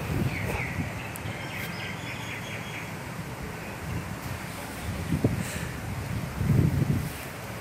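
Strong cold wind gusts through trees beside a building, a broad rushing noise with wind buffeting the microphone that swells and surges in gusts, growing louder toward the end, with no speech.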